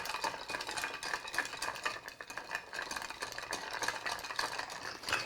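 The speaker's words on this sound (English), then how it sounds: "You wanna stir it for about 30 to 40 seconds" A bar spoon stirs an Athol Brose cocktail in a mixing glass, giving a steady, close, continuous swirl of soft clinks and scraping ice for several seconds, with no voices.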